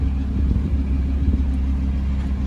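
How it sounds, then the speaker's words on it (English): A Lamborghini Huracan engine idles after start-up, giving a loud, steady, deep rumble that holds evenly throughout with slight fluctuations and no talk. "Yeah, we started up the car."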